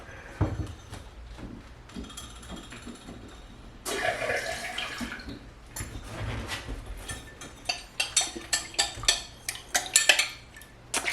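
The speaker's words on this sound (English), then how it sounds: "I might add a little bit more water." Water being added in a bathtub to stiffen crochet, with splashing and clattering sounds, some sharp knocks, rising into a run of close, rhythmic sloshes toward the end, and no talking.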